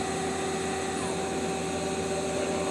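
Mazak Quick Turn 200MS CNC turning center sub spindle spinning at 2750 rpm, a faint, steady machine whine with constant tonal hum and no speech.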